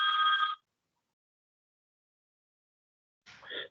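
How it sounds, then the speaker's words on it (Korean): A telephone rings twice with bright, trilling electronic bursts during a Korean Buddhist lecture, a short ring followed by a long pause of silence and then a second ring, heard fairly close and alone without talk. "동화사에서 왜 자꾸 전화가 오는지 모르겠네."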